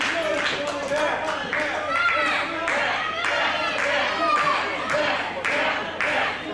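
Crowd at an NBW independent wrestling show in Eldon, Missouri, cheering and clapping steadily throughout, with dense rhythmic claps and shouts, while a commentator talks over the noise.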